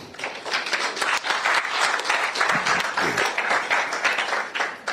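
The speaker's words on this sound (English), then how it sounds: "While the rest of you clap" A large audience at an anniversary event claps continuously, a thick, even wash of applause that stays loud throughout with a few murmured voices underneath.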